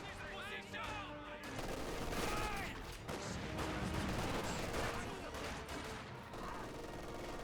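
DShK heavy machine gun fire in a Company of Heroes 2 battle, dense bursts of gunfire and fusillades filling the whole stretch, loud and continuous, with a voice talking over the fighting.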